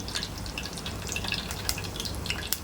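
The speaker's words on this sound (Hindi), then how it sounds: "मैं इसी में फ्राई कर रही हूँ।" Garlic and chana frying in oil, a continuous crackling sizzle with bright pops and spits over a low bubbling bed, close and moderately loud.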